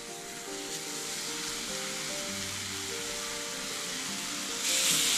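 Three sausages sizzle steadily in a pan, a continuous close, moderately loud frying hiss with faint stirring and crackle, swelling slightly louder at the end.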